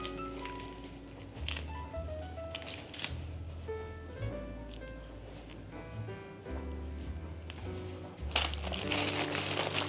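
Fresh spinach leaves torn by hand at a home kitchen counter, a series of soft crinkling, squishy rips coming in irregular bursts, close and quiet with no talk.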